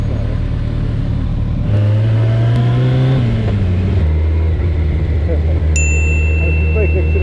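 A car engine runs close by with a steady low drone and a whining overtone that rises briefly and then settles back, with a faint high ding near the end.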